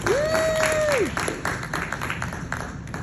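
Audience at a keynote in the MLK Library in Washington, DC applauds library staff, clapping mixed with a loud rising whoop at the start, then scattered claps trailing off.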